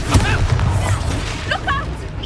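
Expelliarmus disarming spell cast in Hogwarts Legacy, a loud low boom with a burst of magical whoosh, followed by a short voiced exclamation over the game's ambient rumble.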